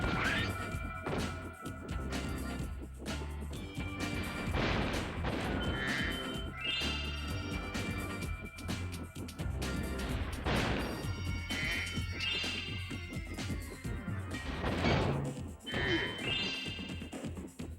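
A bomb blows up in the video game Spyro: Year of the Dragon, with loud smashing crashes and bright tinkling chimes layered over steady game music and effects throughout.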